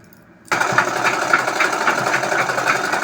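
A sewing machine starts abruptly after a short silence and stitches the waistband of palazzo pants, a loud, close, fast rhythmic clatter that continues steadily to the end.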